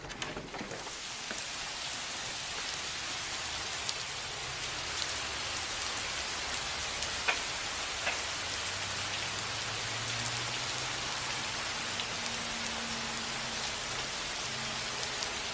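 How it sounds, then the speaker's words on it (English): Steady rain falls outdoors, an even hiss of drops on surfaces that continues unbroken with a few faint patters and no voices. "I think it's actually raining again."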